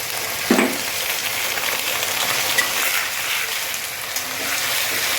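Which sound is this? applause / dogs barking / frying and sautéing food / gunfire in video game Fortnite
frying and sautéing food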